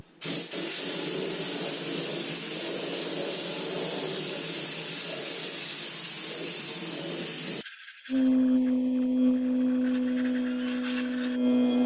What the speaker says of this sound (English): just go to town with the underbody of this vehicle